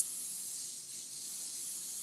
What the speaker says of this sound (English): after you spray that oil on there